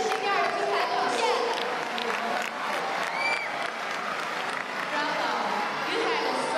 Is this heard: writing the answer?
no